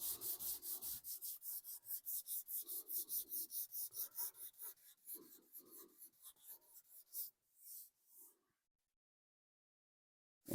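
Sanding by hand across thin clear coat over gold paint on a smashed 1966 Mustang body panel, a steady run of rhythmic rasping strokes up close that slows into a few separate swipes before stopping.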